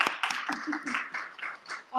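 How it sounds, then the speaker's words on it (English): A small audience claps at a freethinking society gathering, scattered hand claps running under a speaking voice throughout the short stretch. "A round of applause for the museum"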